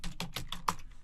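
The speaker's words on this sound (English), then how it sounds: "We're going to type in your email account in the email address field and click next." Fingers type an email address on a computer keyboard, about six quick evenly spaced keystrokes close up with no voice over them.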